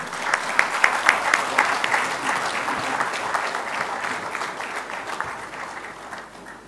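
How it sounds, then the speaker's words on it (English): An audience at a trade convention's inaugural function applauds steadily, a dense wash of clapping from many hands with a few sharper claps early on, lasting throughout. "Let's have a warm round of applause, ladies and gentlemen."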